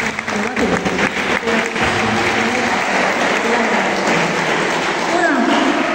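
Audience at a school event in an Italian comprehensive institute applauds, a loud, sustained wash of clapping from a room full of people lasting the whole stretch.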